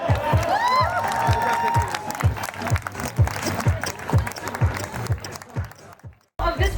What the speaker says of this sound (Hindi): सब तालियां बजाओ